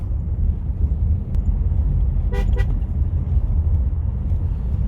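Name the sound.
car horn honking before a corner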